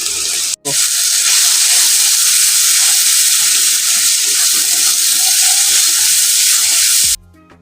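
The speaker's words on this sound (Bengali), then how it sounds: "কষে নিচ্ছি আর মোটামুটি তেলে সেরে যাচ্ছে" Spices sizzle steadily in hot oil while frying for a Bengali lote fish curry: salt, turmeric, cumin powder and Kashmiri chili powder. The loud, even hiss has a brief break near the start and stops abruptly at the end.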